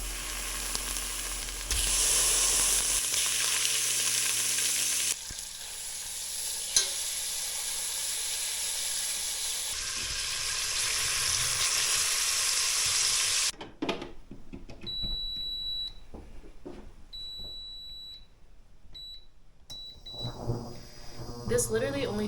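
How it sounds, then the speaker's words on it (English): Bacon fries in a pot on a cooker that runs in short bursts: loud steady sizzling for much of the time, then the hiss drops away and a few electronic beeps sound, with a person talking at moments. "I'm cooking this bacon in 2-minute intervals"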